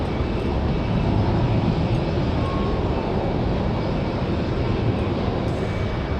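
A Southwest airliner departs from Raleigh-Durham International Airport, a steady, broadband jet roar that holds at an even level throughout and sounds distant rather than close overhead.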